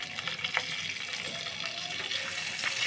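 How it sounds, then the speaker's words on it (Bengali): Dry red chilli, bay leaf, cinnamon, cardamom and green chilli frying in hot oil, a steady close sizzle with crisp crackles and occasional spatula scrapes. "দিয়ে এই মশলাটা আমি একটু ভালোভাবে ভেজে নেব"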